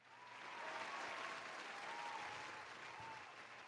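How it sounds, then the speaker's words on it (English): A faint, distant round of applause swells and holds steadily, a soft crowd clapping that fades slightly at the end. "and also a round of applause for him."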